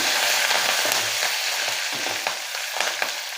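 Green chillies, onion and curry leaves fry in oil for a Tamil chow chow sambar, giving a steady close hiss with faint stirring clicks throughout, no voices.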